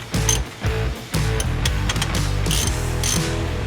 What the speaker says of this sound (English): evenly tighten up these bolts, and we're going to press that seal into the housing